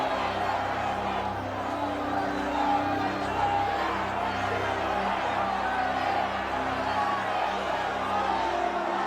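A crowd shouts at a public execution in a Game of Thrones scene, a dense, steady roar of many voices that holds at the same level throughout.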